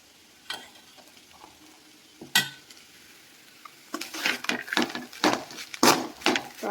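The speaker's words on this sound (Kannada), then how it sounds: "ಸಾಂಬಾರು ಈ ಕಡೆ ಕುದೀತಾ ಇದೆ" Soppu sambar simmering in a pot on the stove, with soft bubbling and stirring clatter that grows busier and louder toward the end, sharp spoon-on-pot knocks standing out.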